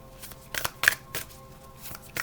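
Tarot cards are shuffled in a few quick riffling bursts, close and crisp, with no voices over them.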